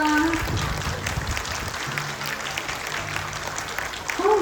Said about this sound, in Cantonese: 我哋再次俾多啲掌聲